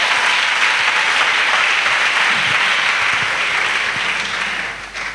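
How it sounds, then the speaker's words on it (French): A church congregation applauds during a bilingual French and English sermon: dense, steady clapping fills the room alone, holding strong before tapering slightly at the end. "Let's clap."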